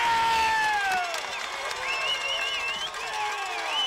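Oak Ridge baseball crowd cheering after a run-scoring double against Clarksville, a sustained roar of shouts and whoops with high voices rising above it, mixed with loud commentary.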